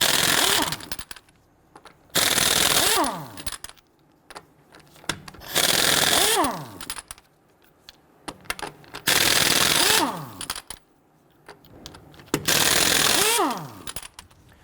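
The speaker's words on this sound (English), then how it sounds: "Using a 19mm socket, loosen and remove the lug nuts." An impact wrench loosening lug nuts with a 19mm socket on the rear wheel of a 2011-2019 Ford Explorer, five loud rattling bursts of about a second each separated by short pauses, the pitch dropping as each burst winds down.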